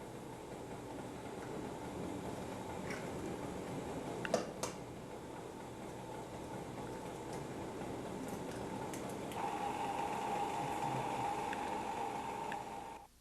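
A mixer beats a cake batter of eggs and other ingredients with a steady, droning whir that runs throughout, broken by a couple of brief clicks, with a slightly brighter tone in the last few seconds.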